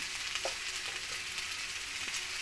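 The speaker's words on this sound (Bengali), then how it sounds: "এবার এই সব কিছুকে ভালোভাবে আমি কষিয়ে নেব" A spiced soybean, papaya and potato curry sautés in a pan, a steady bright sizzle with occasional soft stirring knocks, close and even throughout.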